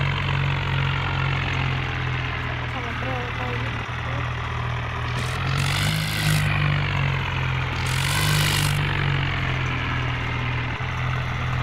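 A video game tractor engine idles throughout, a steady, low, constant rumbling drone, with faint mechanical rattles and brief bursts of higher noise over it.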